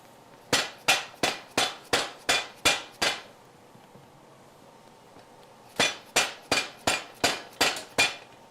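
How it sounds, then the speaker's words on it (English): A shoe orthotic in a cobbler's workshop is struck with a mallet in two rapid bursts of about seven and nine sharp, evenly spaced knocks, with a short pause between them, close and crisp. "I'm gonna hit it with a mallet real quick"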